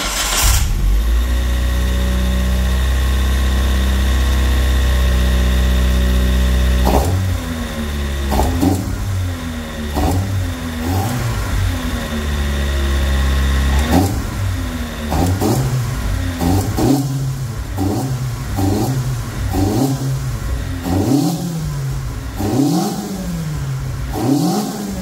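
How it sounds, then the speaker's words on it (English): Toyota 20-valve engine fitted with open throttle trumpets cranks and fires, idles loudly for several seconds, then is blipped through a run of sharp, rapid revs that rise and fall, close and loud with no talk. "then we'll give the car first startup and we'll hear how she sounds"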